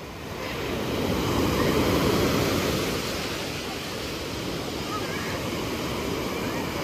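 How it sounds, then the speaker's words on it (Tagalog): High ocean waves break and wash onto a beach in a steady, broad roar that swells and eases slightly. It sounds close and fairly loud, with no clear voices above it. "Masyadong mataas yung alon."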